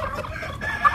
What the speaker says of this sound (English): this is an adult-sized chicken, and they only weigh anywhere from 3 to about 5 pounds